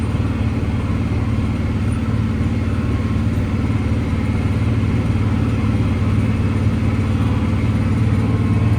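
Loud, steady drone of a Lovol tractor engine labouring under load while pulling a Veles plough through heavy ground, a continuous low rumble with no breaks.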